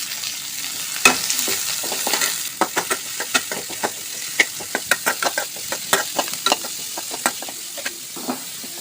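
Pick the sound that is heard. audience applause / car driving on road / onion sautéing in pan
onion sautéing in pan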